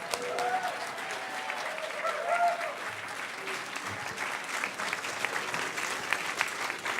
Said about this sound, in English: Do not applaud for me.